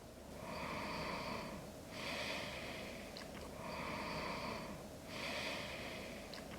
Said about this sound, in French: resserrer légèrement la gorge pour créer comme une sonorité ici au niveau de la respiration